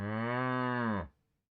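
A single long, resonant cow moo, clear and sustained for about a second before cutting off abruptly into silence.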